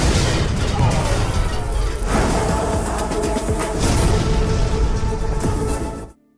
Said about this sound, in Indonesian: hingga kemudian terjadi beberapa ledakan bom di area rumahnya